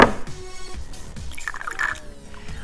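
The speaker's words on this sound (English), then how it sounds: "we're just going to fill the radiator with our vinegar and water solution" Vinegar and water solution glugs and splashes as it is poured into a car radiator opening, a short burst of gurgling and dripping without any talking.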